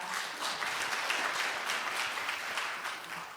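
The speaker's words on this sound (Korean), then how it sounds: "여러분 큰 박수로 환영해 주시기 바랍니다." Audience applause at an AI industry conference in Korea, a dense, even wash of many hands clapping at moderate volume for the whole stretch, tapering slightly at the end, with no talking.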